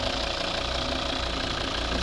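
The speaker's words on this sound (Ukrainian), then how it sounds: "Рівно, плавно, тихо працює двигун." A 2011 Volvo V60 2.0 D3 diesel engine idles steadily and smoothly, a continuous low mechanical rumble with no talk over it.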